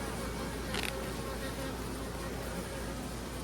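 Honeybees in a hive recovering from swarming, a steady low buzzing hum at moderate distance that holds constant throughout, with a brief rustle partway through.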